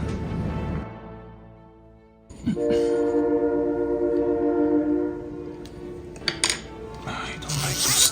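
A train passes close by with a loud sustained horn blast, carrying over a heavy rolling rumble and rattling, and near the end come clanks and a rising roar of cars going by.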